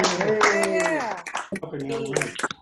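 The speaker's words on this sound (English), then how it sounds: "And a big round of applause." Scattered clapping from participants on a Zoom call during a live online birthday music celebration, mixed in with cheerful voices that dominate over the hands.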